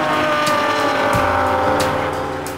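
Aston Martin DBRS-9 race car, the basis of a Bond car and capable of 200 mph, roaring loud and steady at high revs with a rising engine note and brief tyre squeal, close and continuous.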